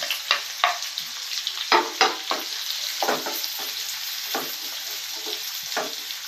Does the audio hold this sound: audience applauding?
no